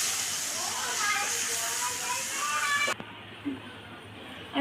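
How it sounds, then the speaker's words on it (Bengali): Water poured onto hot frying masala for a tilapia fish curry with potato and cauliflower hisses loudly and steadily, then cuts off abruptly, leaving faint kitchen noise. "আমি পরিমাণ মতো জল দিয়ে দিয়েছি।"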